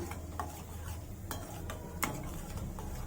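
A spoon stirs chopped cashews, cumin and peppercorns into a ghee tempering in a pan, giving soft scraping with a few light metallic clinks over a faint sizzle, close and quiet, with no talking.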